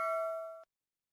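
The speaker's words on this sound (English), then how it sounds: "turn on the notification bell" A single bright notification bell ding, a clean chime tone that rings briefly and cuts off abruptly, followed by silence.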